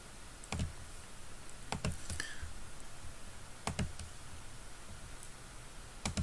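Mouse clicks from modelling work at a computer in FreeCAD, sharp and close, in small clusters of two or three spread across a quiet room background with no talking.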